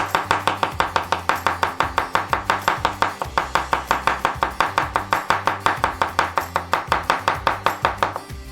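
A knife chops crushed garlic cloves on a board for a burger, striking in a fast, steady rhythm of many close, crisp cuts without pause, with a low hum underneath and no voices.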